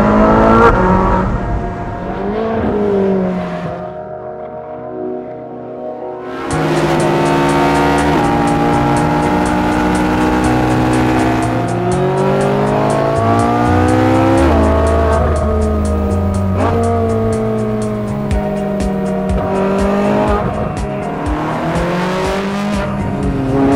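Ferrari 458 Spider mid-engine supercar driven hard up the Stelvio Pass, its engine screaming through rising revs with rapid upshifts, a brief lull, then sustained loud howling acceleration and downshift blips up close.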